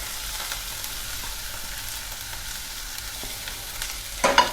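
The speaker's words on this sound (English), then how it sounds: "after having heated the oil, I will add all these vegetables to the oil and saute them lightly" Vegetables sautéed in hot oil for cutlets give a steady, even sizzle close by, ending in a louder burst of clatter as they are stirred, with no voices.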